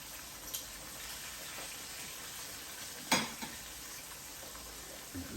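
Faint steady sizzling of bacon-wrapped chicken frying in an air fryer, with a sharp clatter partway through and a few small knocks.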